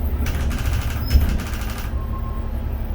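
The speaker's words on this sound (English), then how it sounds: "That's the anti-lock brakes" Anti-lock brakes pulsing on a 2001 New Flyer D40LF city bus at night, a rapid mechanical rattling chatter over the engine rumble for about two seconds, then fading to steady road noise.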